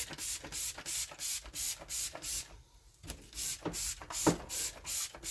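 A spray bottle mists water onto a surface for wet sanding. About a dozen quick hissing squirts come in an even rhythm, quiet and close, with one short pause midway.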